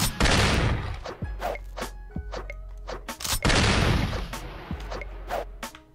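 Shotgun blasts in the video game Kungfu Cowboy, a handful of sharp, booming shots with decaying tails spaced a second or so apart, loud and close, with no voice over them.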